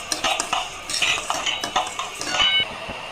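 Lentils are fried and stirred in a pot for Gobindobhog rice khichuri, giving repeated close metal scrapes and clinks of a spoon against the pan in an uneven rhythm.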